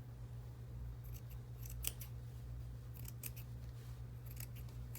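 Scissors snip through material for a felted lighthouse painting in a studio, giving a scattered series of crisp cuts over a steady low electrical hum, with no talking.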